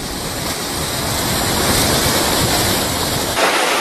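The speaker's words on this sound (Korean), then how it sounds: "여기 물소리가 들립니다." Steady, broadband rush of glacial meltwater flowing, loud and continuous, like a stream pouring nearby under a snow-covered glacier, with no voices.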